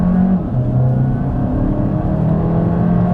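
A VW Tayron SUV, front-wheel drive with electric then petrol power, accelerates at full throttle uphill, its engine note loud and close, droning and climbing steadily.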